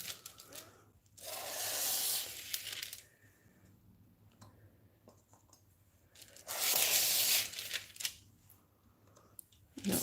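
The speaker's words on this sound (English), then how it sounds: "I'm just scraping this into the cup that has that bit of clear in the bottom" Resin is scraped into a cup holding a little clear resin, with two long close bursts of rough scraping and rubbing separated by quieter pauses.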